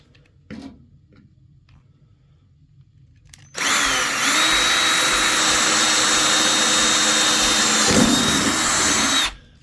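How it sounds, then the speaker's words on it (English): A power drill starts after a few quiet seconds and runs steadily and loudly for about six seconds with a high whine while drilling into a pottery wheel head, then stops abruptly. "Then you're gonna drill that out."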